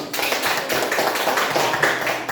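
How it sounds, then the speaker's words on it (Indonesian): A crowd applauding, many hands clapping in a dense, steady patter that carries on without a break. "Tepuk tangan buat kelompok 1."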